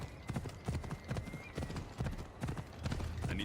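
Horse hooves clip-clop in a quick, steady rhythm in the video game Assassin's Creed Odyssey, close and clear, with a faint whinny-like tone.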